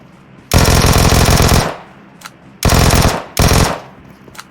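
A VSS rifle fires in PUBG Mobile, three loud sustained bursts of rapid suppressed shots close by, separated by short gaps and faint distant pops.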